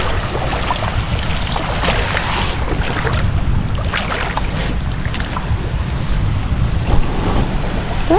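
A boat motor drones at sea during a crab-fishing trip, a steady engine roar under heavy wind buffeting and splashing water, close and loud throughout with no talk.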